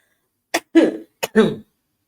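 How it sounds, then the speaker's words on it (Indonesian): Two pairs of short, harsh coughs in quick succession, close and fairly loud, with silence around them. "tiba-tiba kok pengen batuk,"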